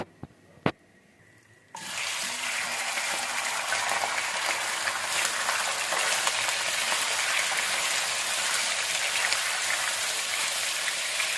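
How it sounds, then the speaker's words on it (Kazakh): Chopped onion, garlic and half a pepper hit hot oil in a kazan. A loud, steady broadband sizzle starts suddenly after a brief metallic clink and holds throughout. "Қазір осыны майға салып қуыратын боламын."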